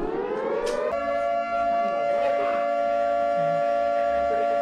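Loud civil-defense-style siren blares continuously as a wake-up call in a room, a steady rising then sustained wail with no talking over it.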